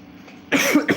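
A single close cough bursts out halfway through, followed by a second shorter cough, after a moment of quiet.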